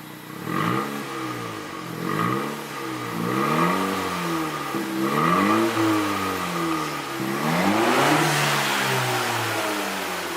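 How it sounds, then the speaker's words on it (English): A 2018 Honda Civic Si with its muffler deleted revs repeatedly, each blip rising and falling in a steady series of throaty mid-pitched engine sweeps, close and fairly loud, with no talking. "give me like a little bit of rev so we can hear it."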